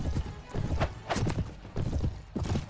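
Horse hooves gallop in Mount & Blade Warband as a mounted rider retreats from archers. The thudding clip-clop beats are rapid and continuous, with a neigh-like tone underneath and no talk.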